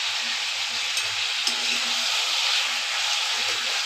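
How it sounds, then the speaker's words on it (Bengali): Chicken pieces sizzling in hot oil in a pan, a steady bright hiss that stays even throughout, with faint low clicks and stirring underneath and no talking. "চিকেনটা যত ভেজে নেবে ভালো লাগবে।"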